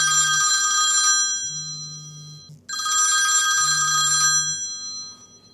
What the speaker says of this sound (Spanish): el teléfono suena.